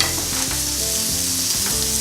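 Burger patties frying in a pan: a loud, close, continuous sizzle with stirring or scraping movements and no voices.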